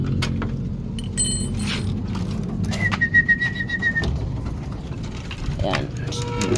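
Pigeons coo and flutter amid steady background rumble, with occasional clinks and a thin whistle-like tone, as birds mill around nearby.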